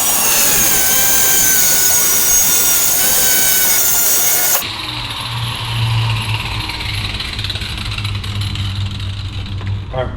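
Angle grinder cutting through a steel bar, starting as a loud, sustained high whine with steady harmonic tones, then dropping abruptly to a lower, rougher grinding hum for the rest.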